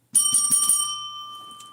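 A small bell rung rapidly several times in a quick jingling burst, then left to ring out with a clear, sustained metallic tone that slowly fades, close and fairly loud.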